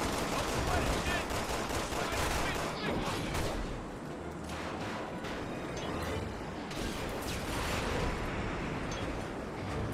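Rapid, dense video-game gunfire rattles on continuously at close range, with a brief dip in intensity midway before resuming; voices talk faintly underneath the shooting.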